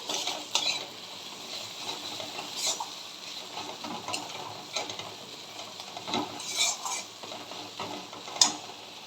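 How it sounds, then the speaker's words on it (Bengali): Green chillies fry with spices while a spoon stirs and scrapes the pan in irregular strokes over a faint steady sizzle, near and fairly quiet, with occasional light clinks of metal. "এই সময়তে আমি কাঁচা লঙ্কাগুলো দিয়ে দিচ্ছি। মশলার সাথে এটা কষানো হয়ে যাবে।"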